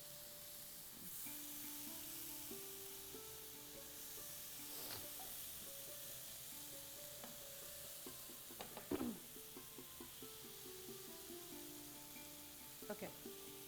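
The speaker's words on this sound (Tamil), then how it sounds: "அந்த பன்னீரை இதையும் நான் இப்போ இதில் குக் பண்ண போகிறேன்" Paneer frying in a pan over a slow flame, a steady soft sizzle with occasional stirring clatter and faint background hum, continuous throughout.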